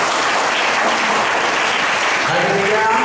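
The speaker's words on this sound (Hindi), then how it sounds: "बड़ा जोरदार ताली बजाएंगे यीशु मसीह के लिए" A church congregation claps loudly and steadily at a worship service, a dense continuous burst of applause with a voice rising faintly underneath toward the end.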